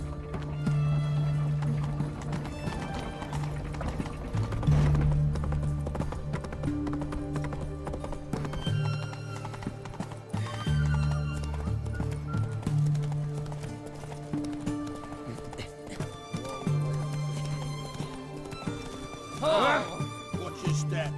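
Horse hooves clip-clop steadily through a video game scene, a continuous rhythmic trot under game music, with voices speaking over it at times.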